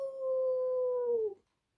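A person's voice imitates a dog howling at the moon during a farm bedtime story, a single drawn-out howl lasting over a second and falling in pitch at the end, heard alone.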